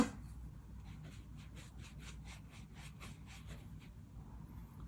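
Soft brush strokes sweep across a wide area of Canson Aquarelle cotton watercolor paper, a steady series of faint, close swishing rubs repeating in an even rhythm with no talk.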